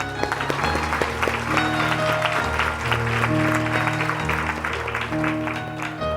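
A crowd at a spiritual satsang camp in Haridwar claps steadily and densely for about six seconds, with sustained musical tones running underneath.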